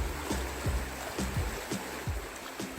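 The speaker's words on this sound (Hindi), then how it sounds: "इस पानी के बहाव को स्पष्ट अपने कानों से सुना जा सकता है।" Fast-flowing clear river water in Nepal rushes steadily and close by, a continuous broadband wash with rhythmic low surges about every half second.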